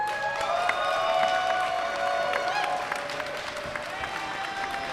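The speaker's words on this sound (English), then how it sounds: "We're offering a round of applause to our judges and volunteers, as well as our medical staff." Audience applause at the finals of a longsword tournament: sustained, dense clapping from a sizable crowd that holds steady for the whole stretch, with no voices over it.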